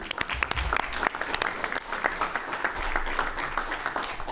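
Applause from the audience at a high school pitch contest as a student presenter is introduced, a dense, lively patter of clapping with a few sharper nearby claps, carried on steadily throughout.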